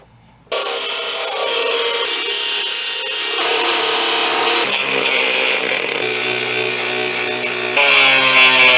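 A power tool cuts a metal reinforcement plate for a BMW E46 Touring's chassis, a loud, continuous harsh grinding whine that starts abruptly after a short silence and shifts pitch as the cut progresses.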